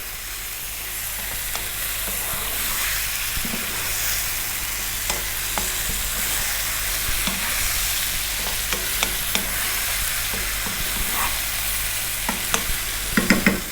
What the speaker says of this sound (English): Just 3 minutes, gently turning it over, stirring it there.